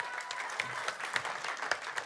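Audience applause at a stand-up comedy reading night, a brief burst of scattered hand clapping from a live crowd, moderately loud and continuous.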